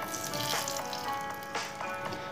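Hot tempering of mustard seeds and sesame poured into batter, giving a steady close sizzle with a few sharper crackling bursts as the oil hits.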